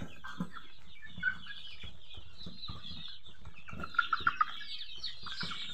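Quiet clucking from local free-range chickens, scattered soft calls with a quick run of four clucks near the end, set against a calm background.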